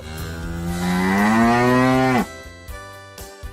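A single cow gives one long, loud moo, rising slightly and holding for about two seconds before cutting off, heard close with no one speaking.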